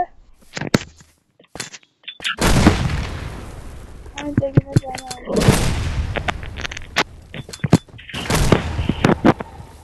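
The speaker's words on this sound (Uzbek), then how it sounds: "Va bu yerda mina ham bor. Buni ustiga chiqsangiz portlaydi." Land mine explosions in a modded video game ring out as two heavy booms amid sharp bursts of gunfire and rapid impact clicks, with a brief spoken remark early on.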